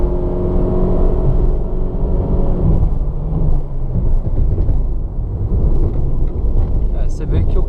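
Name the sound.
Honda Fit 1.5 CVT accelerating in Sport mode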